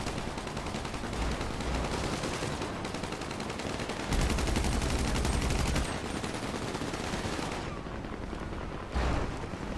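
Rapid automatic gunfire in GTA 5 Online rattles out in dense, loud bursts, with a short pause before a final closer volley as an enemy is sprayed down.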